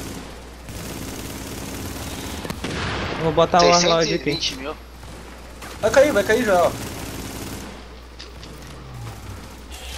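Rapid automatic gunfire in The Division rattles in two dense bursts over a steady game soundscape, loud and close, while players talk over it.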